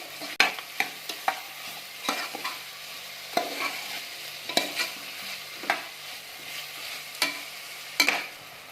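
Spoon stirring vegetable pulao with salt in a pressure cooker pot, a series of sharp scraping clacks at an uneven pace over a soft sizzle, close up with no talking.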